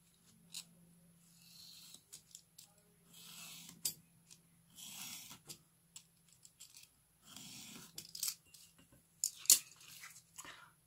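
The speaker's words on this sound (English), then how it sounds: "Just cut it off at them lines." A knife slices through card mat along ruled lines, a quiet, intermittent scraping and scoring in short strokes with soft clicks and taps between cuts, no voices.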